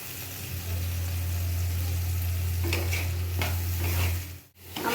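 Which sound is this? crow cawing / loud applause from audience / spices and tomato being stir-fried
spices and tomato being stir-fried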